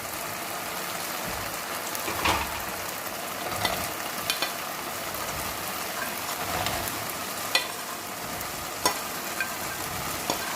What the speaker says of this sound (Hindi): अब ये चने इसको डाल देंगे इसमें।